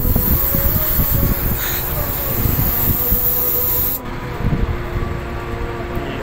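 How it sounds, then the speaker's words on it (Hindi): A Dubai Metro train carries riders toward Persia Cluster from International City, with a steady rumbling rail roar and hiss throughout and a brief drop in level partway as the ride rolls on. "ये हम बैठ चुके हैं जी मेट्रो में, अभी हम जा रहे हैं पर्शिया क्लस्टर की तरफ"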